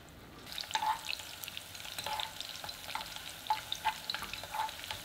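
Scallion whites frying in avocado oil in a pan, a steady sizzle with a few soft stirring taps, close and quiet, no talking.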